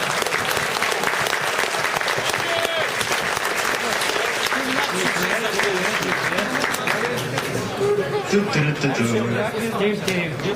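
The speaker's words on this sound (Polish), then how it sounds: "Więc prosimy o mocne brawa" Sustained applause from a large crowd at a Pyrkon 2013 convention panel, steady clapping filling the space with some voices and cheering mixed in throughout.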